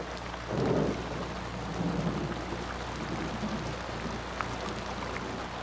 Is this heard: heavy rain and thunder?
yes